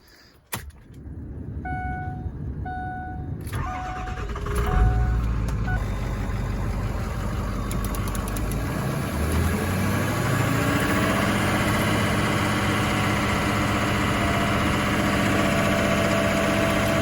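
A picker truck's engine is held at high idle by a stick to run its crane faster while lifting a welder. A few electronic beeps come first, then the engine rumbles up and settles into a loud, steady high idle.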